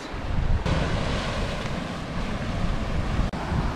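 Rough Mediterranean sea waves crashing and surging near the shore, a loud continuous wash of surf mixed with gusting wind buffeting the microphone, no voices.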